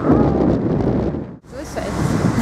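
Strong wind buffeting the microphone outdoors near a truck, a loud steady roar with a brief lull midway before it picks up again.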